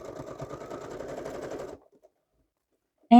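A sewing machine runs a zigzag stitch in a steady, rapid mechanical chatter up close for under two seconds, then stops and leaves near silence with a faint click.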